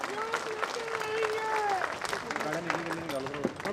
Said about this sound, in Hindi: केशव मौर्य जी की एक बार जोरदार ताली बजाइए, धन्यवाद दीजिए उनको।